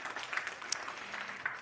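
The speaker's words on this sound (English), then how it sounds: "Let's give them all a round of applause." Audience applause at a sustainable infrastructure symposium media briefing, a steady wash of clapping held at moderate loudness for under two seconds, with no voices over it.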